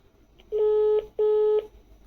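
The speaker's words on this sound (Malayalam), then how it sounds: "ഇതിൽ നിന്ന് കോൾ വിളിക്കുകയാണ് പുറത്തേക്ക്" Outgoing call dialing through a Grandstream PBX, two steady telephone tones of about half a second each separated by a short gap, clear and close with no talking.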